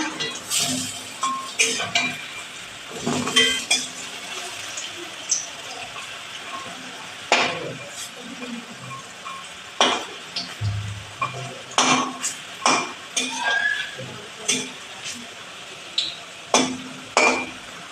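Lentil fritters (bora) being turned over in frying oil, with a run of clinks and scrapes of a utensil against the pan over a quiet background sizzle, rhythmic and close.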